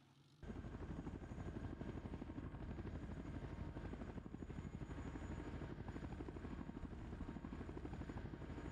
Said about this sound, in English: Where the fuck is the Chinook going?